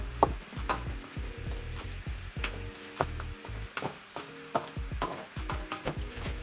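Onion and garlic sizzle in a hot pan with a soft frying crackle, while a spatula scrapes and stirs in an uneven rhythm, clicking and knocking against the metal. The sound is close, quiet and steady, with no voices.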